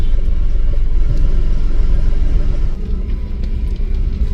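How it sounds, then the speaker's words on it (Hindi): A car rolls across a bridge of wooden planks laid over the Chambal river, a loud, close, continuous low rumble that eases slightly toward the end. "इस पे चल रही है गाड़ी"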